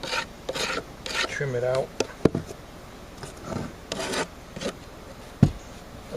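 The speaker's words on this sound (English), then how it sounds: "And we got the wood rasp here." Hand wood rasp filing the edge of a plywood piece in a shed, a few short scraping strokes in separate bursts, close and moderately loud, with brief speech partway through.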